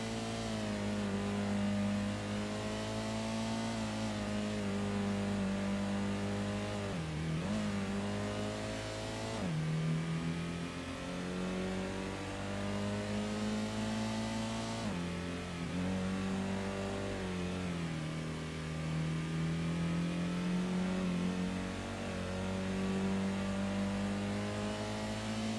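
A fast C-Class race car in Gran Turismo revs and accelerates through gear changes, its engine note climbing and dropping over and over in a continuous, moderately loud drone.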